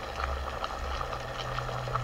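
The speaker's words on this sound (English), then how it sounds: "As the water boils, it turns into steam," Water boils inside a bottle hung on fishing line, a steady soft bubbling and hiss with faint irregular pops over a low hum.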